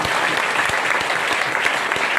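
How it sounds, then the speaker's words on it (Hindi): An audience at a meeting applauds loudly and steadily, a dense continuous wash of clapping from many hands for a couple of seconds. "एक जोरदार ताली होना चाहिए उस महान व्यक्ति के लिए"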